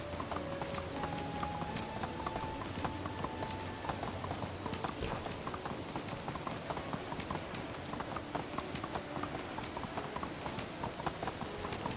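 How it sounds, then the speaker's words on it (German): Horse hooves clip-clop steadily in the medieval survival game Medieval Dynasty, a continuous even rhythm of hoofbeats at moderate distance, running alone for the whole stretch with faint game ambience underneath. "das Pferd können wir Ferdinand nennen"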